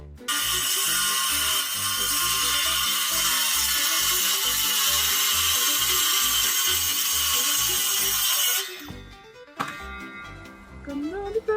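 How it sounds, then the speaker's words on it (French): An AEG portable circular saw cuts steadily with a loud, sustained high whine for about nine seconds, then winds down, followed by a couple of brief, quieter bursts as the blade spins again. "je vais racheter une scie circulaire portative de AEG."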